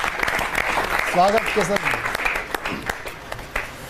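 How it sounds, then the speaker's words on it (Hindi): Audience applause at a Hindi comic poetry gathering welcomes a poet to the stage, a steady wash of clapping with a voice speaking over it for part of the time. "जोरदार तालियों के साथ स्वागत करेंगे केसर देव मारवाड़ी जी का।"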